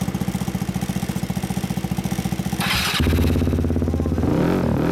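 A 2013 Yamaha Cygnus X scooter fitted with a Wind Jammers exhaust idles close by with a rapid, even pulsing beat, gives a brief sharp rev, then settles into a deeper, heavier idle.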